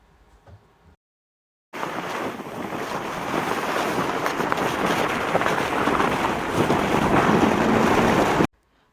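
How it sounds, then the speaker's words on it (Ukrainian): A sled slides down snow with a loud, continuous hissing rush that starts abruptly, builds slightly, then cuts off. "Такий звук можна почути, коли спускаємося на санчатах з горки"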